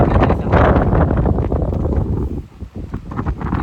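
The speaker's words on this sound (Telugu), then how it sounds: "మామూలుగా లేదు గాలి ఇక్కడ," Strong wind blasts across the microphone at Station Ghanpur dam reservoir, a loud continuous rumbling buffet.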